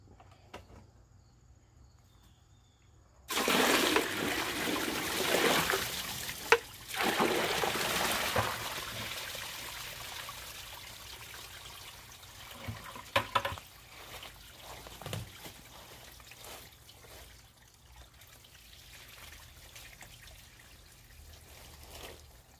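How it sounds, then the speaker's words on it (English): Water dumped from a bucket into a 2016 Kohler Sifton toilet bowl makes a sudden close splash and rushing gush that fades into trickling and gurgling, with a few small knocks later on. "the water that I dump in will hopefully push it out pretty early"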